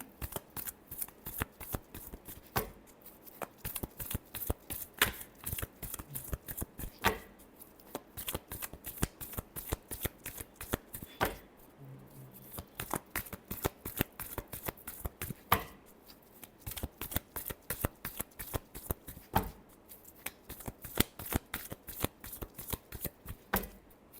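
Tarot cards shuffled by hand in rapid, crisp riffling bursts, repeating steadily over about twenty-four seconds with brief pauses between rounds, close and moderately loud with no talking.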